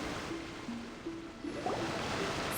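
A rushing waterfall in a fantasy video game setting, a steady broadband wash of falling water that stays loud and continuous throughout, with faint tonal game music threading underneath and no talking.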